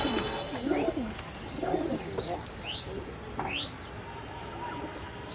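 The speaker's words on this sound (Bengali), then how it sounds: "খুব সুন্দর একটা জাতের কবুতর।" Pigeons coo in a pigeon house, with soft repeated rolling calls coming every second or so, close by. Light chirps and faint background noise run underneath.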